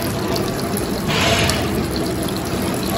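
Tap water runs steadily at an outdoor tap while fish are scrubbed clean with pumice, a continuous close splashing hiss that swells briefly midway.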